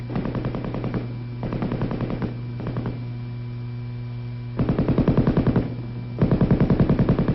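An M60 7.62 mm gas-operated, belt-fed machine gun fires several sustained automatic bursts, rapid and evenly spaced with short gaps between them, over a constant electrical hum.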